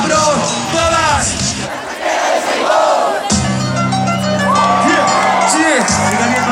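A large concert crowd at a show in Valencia roars and chants in unison, loud and dense, with amplified music and shouted lines from the stage over the top.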